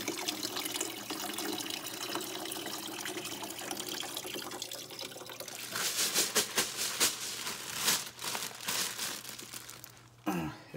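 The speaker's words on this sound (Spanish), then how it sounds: "Tenemos agua, déjenme sacarle el agua para poder ver." Water pours and splashes out of a Yeti cooler holding ice, giving a steady gushing trickle that turns into louder, choppier sloshing toward the end, with plastic crinkling mixed in.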